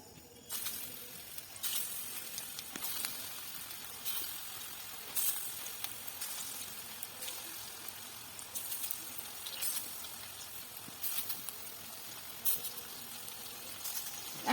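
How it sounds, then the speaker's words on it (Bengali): Lentil and banana flower fritters frying in hot oil give a steady, close sizzle with scattered crackling pops that runs the whole time, with no voices. "বড়াগুলো ভেজে নেবো"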